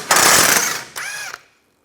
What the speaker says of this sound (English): Now I'm going to use an 18mm wrench on the bolt side and 18mm socket.